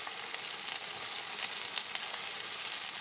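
Tomatoes being stirred in a frying pan while cooking chicken liver, a steady close sizzle of frying running throughout with faint scraping of the spoon and no talking.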